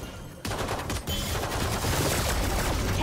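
Gunfire in the video game Valorant crackles as dense, overlapping rapid shots that start abruptly and continue loud and steady.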